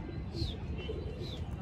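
A Hyderabadi pigeon coos softly, a few brief low calls at a distance, under faint background noise.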